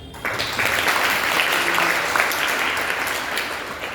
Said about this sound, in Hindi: सबसे पहले आप सभी अपने लिए ताली मार लीजिए।